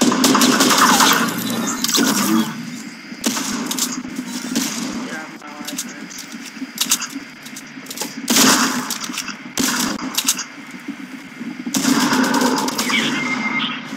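Gunfire in the video game Fortnite crackles in rapid automatic bursts, loud and close, several volleys separated by short gaps, with quieter game effects between them.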